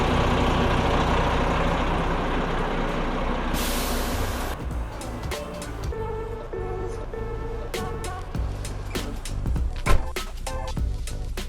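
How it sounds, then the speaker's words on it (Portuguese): A coach bus engine runs steadily throughout, with a sharp burst of air brake hiss partway through and scattered clicks and knocks over the continuous low rumble. "Olha só o barulho do motor."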